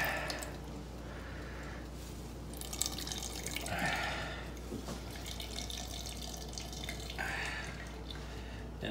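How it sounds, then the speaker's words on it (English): Water splashes and drips steadily as a soaked cloth is twisted and squeezed, producing close trickling and pattering bursts that swell and fade over a constant low hum, with no talking. "I'm going to try to squeeze as much water out of there as I can."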